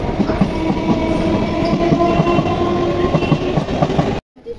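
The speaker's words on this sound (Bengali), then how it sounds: "অবশেষে কাটোয়া যাওয়ার গাড়ি চলে এসছে" A train bound for Katwa rolls into a station platform, a loud continuous rumble of wheels and carriages with steady clatter, running close and strong until it cuts off abruptly near the end.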